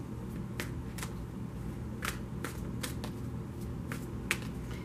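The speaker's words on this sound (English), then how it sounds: "she took it at the kindness of her heart to send me a long drawn out email to let me know that I don't need to shuffle in front of the camera" A deck of tarot cards gets shuffled in short crisp riffling bursts, several quick flutters and snaps spaced across a few seconds over a low steady room hum.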